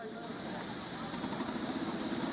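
A steady wash of steam hiss comes from two traction engines at Statfold Barn Railway, soft and unbroken with a faint low rumble, while a voice talks faintly in the background.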